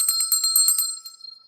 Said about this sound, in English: We got the bell ringing.